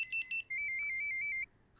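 A phone ringtone plays alone for an incoming call: two short electronic beeps, then a sustained pulsing melodic tone that stops abruptly, fairly clear and close.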